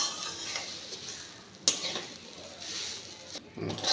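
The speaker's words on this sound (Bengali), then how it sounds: "এটাকে আমি হালকা আঁচে নাড়াটাড়া করব আর অপেক্ষা করতে হবে তেল বেরোনো পর্যন্ত" Mustard seeds stirred in a pan over low heat, a soft continuous scraping and gentle sizzling with a sudden sharp clink of the utensil against the pan partway through, close and steady.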